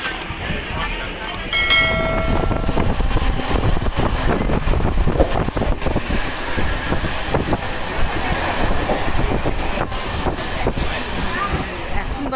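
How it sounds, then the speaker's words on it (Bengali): A local passenger train pulling out of platform 3 on a line toward Naihati Junction in West Bengal, a loud, close, continuous rumble and clatter of wheels on track with wind buffeting throughout. "আমাদের এখন ট্রেন ছেড়ে দিয়েছে।"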